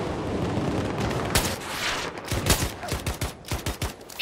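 Long-range sniper fire in the video game Battlefield 2042, a loud sharp shot followed by a rapid run of further gunshots and battlefield bursts over steady noisy combat ambience.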